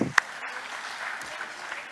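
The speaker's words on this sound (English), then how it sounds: "please give yourself a round of applause" A conference audience at a tech talk applauds in a brief, fairly quiet burst of steady clapping after an opening sharp clap, spread evenly over about two seconds.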